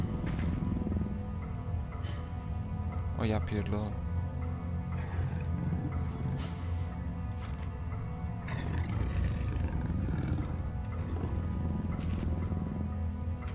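A hostile dog snarls and roars in the horror video game Penumbra, with growling bursts mixed into a dense low game rumble while a man swears loudly over it.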